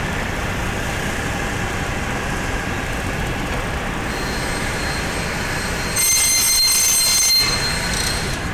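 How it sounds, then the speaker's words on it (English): Factory saw travelling with a moving aluminum extrusion as it cuts, a steady loud grinding, rumbling roar with a rising metallic whine and screech near the end, close by with no talk. "this saw is going to move with the part and cut right on that line"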